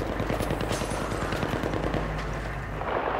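Rapid automatic gunfire in the video game Battlefield 3, a dense clattering burst of shots running steadily through the clip at moderate volume.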